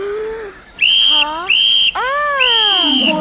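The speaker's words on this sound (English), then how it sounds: "blow on the whistle three times" A shrill whistle blown three times in sharp bursts, loud and close, with brief gaps and a small voice murmuring between blasts.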